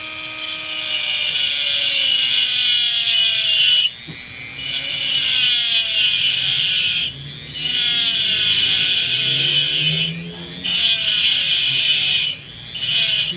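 A saw blade cutting amethyst at low RPM, a loud, steady whine with shifting tones that stops and restarts three times in a series of long passes.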